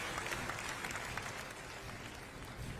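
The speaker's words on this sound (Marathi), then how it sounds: "पुन्हा एकदा जोरदार टाळ्या" An audience at a Paani Foundation farming event applauds steadily, a faint, even patter of many hands that sounds somewhat distant and carries on without a break.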